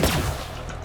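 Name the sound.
cryogenic gun firing in video game Borderlands 3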